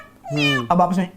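A man mimics a cat's meow with his voice, giving a short, loud two-part miaow close to the microphone, immediately followed by speech.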